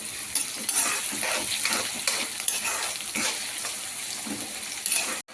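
Onion, green chilies and curry leaves fry in hot oil for a gongura raw prawn curry, a loud continuous sizzle broken by repeated stirring scrapes and clinks of the pan.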